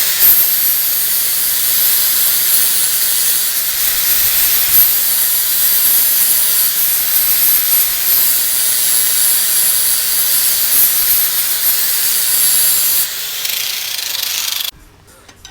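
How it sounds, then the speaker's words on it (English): An angle grinder grinds a weld off the shifter linkage of a 1994 Chevy Astro van, a loud continuous hissing rush that holds steady for several seconds, then cuts off and winds down near the end. "Now I'm just going to grind this off and clean it up a little bit."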